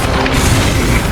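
Incendio fire spell cast in Hogwarts Legacy, a dense, loud burst of booming, roaring fire that fills the whole short moment without a break.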